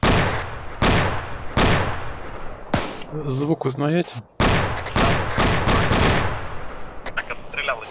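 A Saiga shotgun fires in a Russian-language ARMA 3 match, giving loud, sharp, closely spaced blasts in an irregular run of about ten shots. Players talk over a short pause in the firing.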